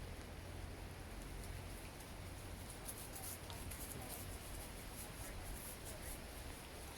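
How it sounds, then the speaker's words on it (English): Steady rain falls throughout, a dense, even hiss of drops on surfaces that holds at a constant level for the whole stretch, with no voice rising above it. "As the rain is coming down,"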